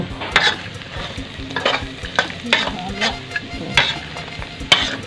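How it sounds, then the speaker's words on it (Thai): Garlic fries in a little oil in a pan for pork noodles, with a loud close sizzle under repeated rhythmic scraping and clinking strokes of a utensil stirring, about every half second. "เจียวไปเรื่อยครับเดี๋ยวน้ำมันหน่อยหนึ่ง"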